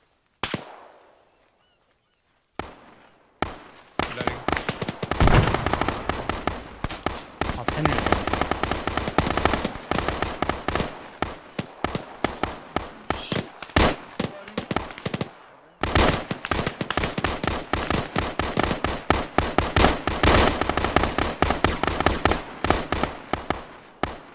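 Dense, loud rapid-fire gunfire from a military shooter game during a counter-ambush training drill runs almost nonstop in long bursts, with one brief pause partway through and no voices.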